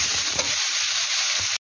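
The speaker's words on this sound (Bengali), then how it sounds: "দিয়ে আবারও একটু নাড়াচাড়া করতে হবে।" Spinach curry with turmeric and salt being stirred in a pan, a steady close sizzle with a few soft scraping strokes of the spoon, no voices.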